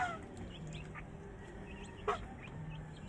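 Ducks kept as poultry, about 45 days old, are fed in the morning, with a flock quacking and honking in steady overlapping calls and one sharper call standing out briefly.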